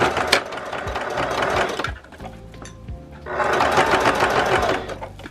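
A home sewing machine stitches fabric closed on a cup koozie, running in two steady bursts of rapid mechanical whirring with a short quieter pause between them, close and loud.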